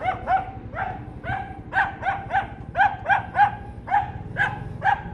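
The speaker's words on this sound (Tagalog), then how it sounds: "Galit na galit yung aso." An angry dog barks repeatedly, sharp rapid yaps in quick clusters of two or three, fairly close and loud over a low engine-like rumble.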